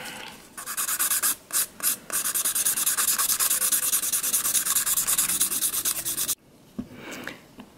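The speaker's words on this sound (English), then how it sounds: "the thicker the extension, the more filing that you need to do. So let's get filing." A nail file scrapes steadily across a gel nail extension in rapid, continuous rasping strokes, close and loud, broken by a few short pauses before the scraping stops and faint handling sounds follow.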